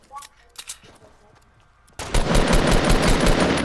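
Rapid automatic gunfire in a battle royale shooter game bursts in loudly halfway through, a dense sustained volley after quieter moments with scattered shots and brief talk.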